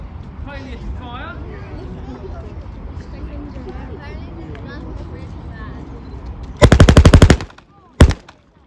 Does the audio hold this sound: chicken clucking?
no